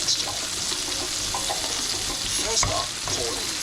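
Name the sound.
scrambled eggs stirred on high heat in non-stick frying pan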